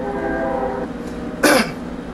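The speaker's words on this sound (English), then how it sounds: "excuse the train." A train passing near an indoor speaker, heard as a droning, horn-like tone that fades out, followed by a short loud hissing burst.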